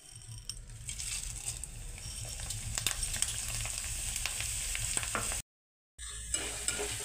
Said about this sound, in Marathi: आता बटाट्याचा कीस तळून घेऊयात